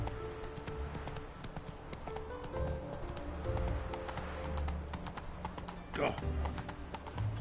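Horse hooves clip-clopping at a gallop in The Witcher 3, a steady rapid thudding rhythm under game music and a rider's spoken commands, with a brief whinny near the end.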